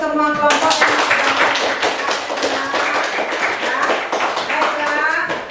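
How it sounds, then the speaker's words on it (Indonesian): Students in a classroom clap as a group for the student teams. The applause is dense and sustained, with many hands and loud, close clapping that carries through the whole stretch. "Kita kasih tepuk tangan dulu untuk semua kelompok"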